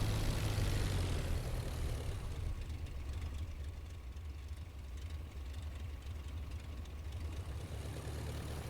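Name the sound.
aircraft engine during taxi and takeoff in IL-2 Flying Circus video game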